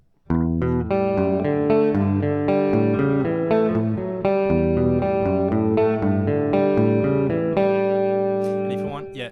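Electric guitar plays the main riff of a song, a ringing line resolving onto an open G, with sustained harmonic chords repeating steadily, close and loud with no voice over it.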